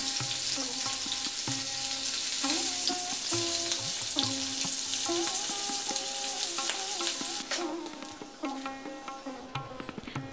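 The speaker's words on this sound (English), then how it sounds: "I will use this oil to fry the potatoes" Potatoes fry in leftover mustard oil in a pan, making a loud, steady sizzle with occasional stirring clinks over a faint tonal background. The sizzle eases slightly toward the end.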